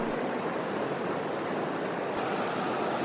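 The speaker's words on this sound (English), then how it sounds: "Near the village Goght, we are facing a branch of the Azat river." An icy mountain creek, a branch of the Azat river fed by snowmelt from the Gegham peaks near the village of Goght, rushing steadily as a dense, loud, unbroken wash of water heard close by with no voices.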